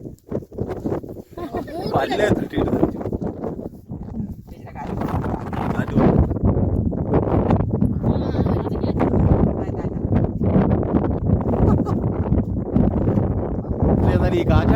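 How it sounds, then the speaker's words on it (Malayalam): Strong wind buffets the microphone in heavy, uneven gusts, roaring close and loud for most of the stretch while a person talks over it. "ഇപ്പൊ പറന്നു പോകുന്നു കാറ്റ്."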